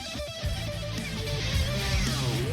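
Distorted electric guitar solo from Ozzy Osbourne's rock song "Patient Number 9", with a bending lead line that slides upward near the end over dense, loud band backing; no voices over it.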